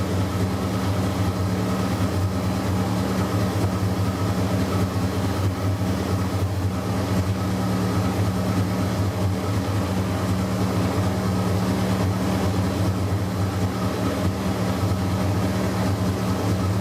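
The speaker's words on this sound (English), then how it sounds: "I'll put the car into gear and warm it up further." A 1983 VW Rabbit GTI fitted with a 16V ABA engine idles in gear while warming up, producing a steady, constant low drone with a continuous hum that holds unchanged throughout, with no speech.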